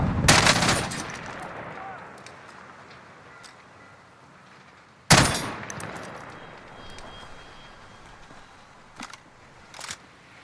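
Gunfire in the Call of Duty Warzone video game, played on Rebirth Island. Two sharp bursts of shots are spaced about five seconds apart, each followed by a fading tail, then a few fainter distant cracks, with a player's voice heard briefly.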